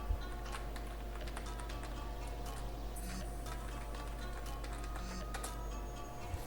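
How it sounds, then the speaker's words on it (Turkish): A password being typed on a computer keyboard, a quick run of soft, faint clicking keystrokes over a steady electrical hum with no one speaking. "Ben şifremi yazıyorum arkadaşlar"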